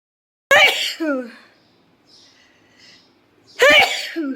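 Two loud, close sneezes from a woman, one at the start and another a few seconds later, with quiet breathing and faint sounds between them.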